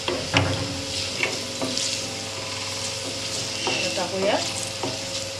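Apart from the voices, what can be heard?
stirring cabbage with coriander powder and garam masala in pan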